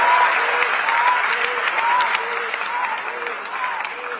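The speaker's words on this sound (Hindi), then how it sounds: "अगर बदली है तो जोरदार तालियां देश के प्रधानमंत्री नरेंद्र मोदी के लिए।" Loud, sustained applause from a large audience at a university convocation ceremony, cheering for the prime minister, a dense, steady wash of clapping throughout with faint voices mixed in.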